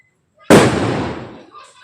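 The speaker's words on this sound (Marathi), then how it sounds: "थोडेसे फटाके वगैरे बाहेर चालू आहेत" A single sharp firecracker bang outdoors bursts after a short silence, then decays into a long, crackling rumble that fades out.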